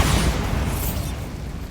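The Bombarda blast spell in Hogwarts Legacy goes off as a loud, deep explosion with a rumbling tail that fades slowly over under two seconds, heard alone without talk.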